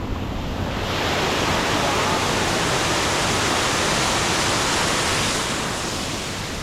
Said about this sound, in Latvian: Neko sev ūdens kritums.